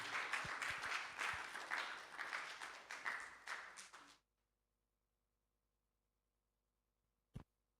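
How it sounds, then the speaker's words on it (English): Church audience applause at a youth week evening service, dense and steady for about four seconds before cutting off to silence, then a single sharp clap-like burst near the end. "If you're clapping, do it better"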